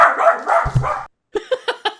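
A dog barks in a quick series of about five sharp, evenly spaced barks after a brief pause, close and fairly loud, following a stretch of muffled, indistinct sound.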